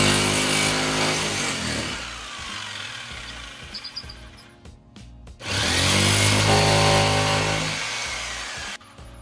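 A power tool trims through a camper wall to fit a cat door, cutting in two long loud buzzing passes with a brief pause between them.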